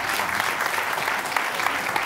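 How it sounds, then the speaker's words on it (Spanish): Steady applause from an audience honoring a barista at a café gathering, dense and continuous for about two seconds with no voices standing out. "Víctor Bolea, un fuerte aplauso para nuestro barista."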